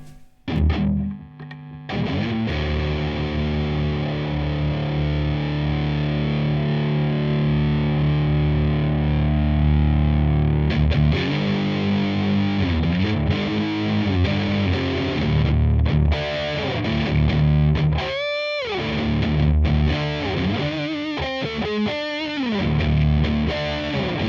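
An electric guitar played through the modern distortion setting of a Boss ME-70 multi-effects pedal, with sustained, heavily saturated chords and bent notes ringing out loud and continuous for the whole stretch.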